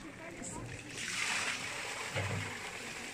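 Waste water from a camper van's shower and sink empties at a campsite, a rushing, splashing gush that swells and then keeps flowing steadily, close and fairly loud.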